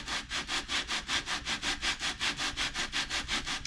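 A motorcycle cylinder head slid back and forth over 150-grit abrasive paper laid flat, giving a steady, rhythmic rasping scrape of about five strokes per second, close and continuous with no talk.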